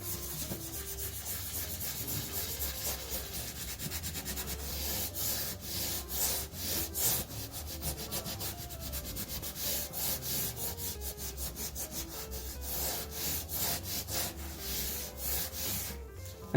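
Dark blue crayon rubbed into paper in quick, repeated back-and-forth strokes, a soft, faint, close scratchy rhythm with no voices.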